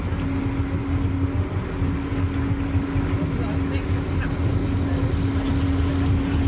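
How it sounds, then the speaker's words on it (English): A big Riviera cruiser motorboat passes close by a boat SeaPen dry dock, a steady droning engine hum with wash and wind noise, continuous and fairly near throughout. "we had that big Riviera coming up close to our SeaPen"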